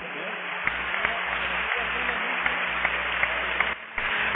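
Congregation at an evangelical church service in Veracruz, Mexico applauding the Lord, with steady, dense clapping that continues for several seconds before briefly dipping near the end, under a reverberant hall sound.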